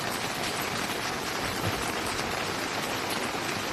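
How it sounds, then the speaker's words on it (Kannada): Dense, heavy monsoon rain in Kodagu hisses in a continuous, even wash of sound, loud and close with no voices. "ಮಳೆಯ ರಭಸ ಜಾಸ್ತಿ ಆಗಿರೋದ್ರಿಂದ ಸ್ವಲ್ಪ ಎಚ್ಚರಿಕೆ ವಹಿಸಿಕೊಳ್ಳಬೇಕು ಜನಗಳು."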